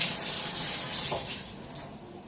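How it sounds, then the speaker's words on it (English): Hands being washed under a running tap in a kitchen sink, a steady broadband water rush close by that thins and changes slightly toward the end as hands move through the stream. "Wash my hands."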